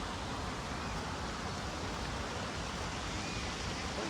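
A waterfall with water pouring down heavily, heard as a steady, broad rushing roar that stays even throughout, moderately quiet and without voices.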